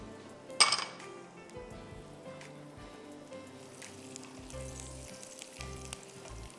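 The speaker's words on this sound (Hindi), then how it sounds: "ये इस दाल का मज़े का तड़का रेडी।" Tempering for sambar dal sizzles faintly in a pan as a soft, steady fry, with a sharp metallic clink near the start and light utensil clatter; no voices.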